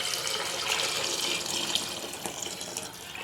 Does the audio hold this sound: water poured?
yes